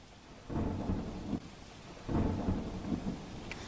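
Heavy monsoon rain pours steadily in Dang, Gujarat, as swollen rivers flood over causeways, while two deep, rolling thunder rumbles swell and fade over the continuous downpour.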